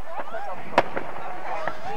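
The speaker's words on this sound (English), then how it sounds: "You can't beat these fireworks either." Fireworks go off at a Christmas parade in Newcastle, Pennsylvania; one sharp distant pop stands out, followed by a few fainter bangs, under crowd noise.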